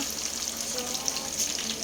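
Steady, crackling sizzle of liver, squid balls and kikiam frying in a pan, close and continuous with a few brighter pops, no voices.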